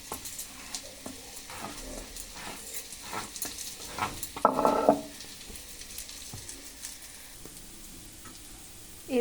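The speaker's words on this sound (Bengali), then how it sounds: "আলু পেঁয়াজটা ভাজা ভাজা হয়ে গেছে" Low crackling sizzle of potatoes and onions frying in a pan, with scattered scraping stir sounds and a brief louder burst midway.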